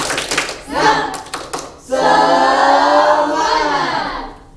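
A classroom group claps out a quick rhythmic pattern during a junior high micro-teaching lesson, with sharp close hand claps at first, then voices chanting together loudly in unison.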